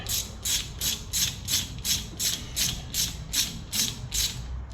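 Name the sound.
ratchet tightening bolt on Ford F150 wheel hub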